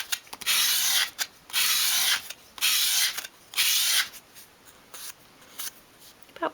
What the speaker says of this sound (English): So hold the piece at a 45-degree angle against your sandpaper, and as you sweep it towards you,